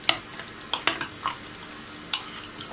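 A spoon stirs a yogurt meze in a home kitchen with several separate scraping clinks against the bowl, spaced unevenly and fairly close, with no voices.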